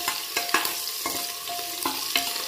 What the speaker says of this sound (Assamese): গোল্ডেন ব্ৰাউন হোৱালৈকৈ আমি ভাজি থাকিব লাগিব